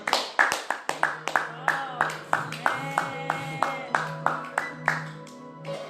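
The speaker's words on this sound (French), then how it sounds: "on peut acclamer pour Jésus" A worship congregation claps in acclamation for Jesus, steady rhythmic handclaps repeating evenly over about six seconds, close and fairly loud, with voices over the clapping.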